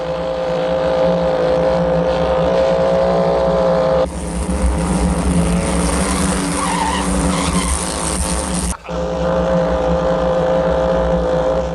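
Racing car driven flat out during a race, a loud continuous engine roar that swells into a harsher, brighter burst midway before dropping back to a steady drone.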